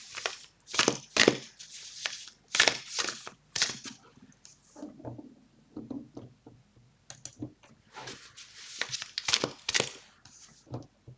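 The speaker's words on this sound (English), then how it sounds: "I'm going to start shuffling the cards, get the energy going." Tarot cards are shuffled repeatedly up close, bursts of papery riffling and slapping with brief pauses and soft handling sounds between.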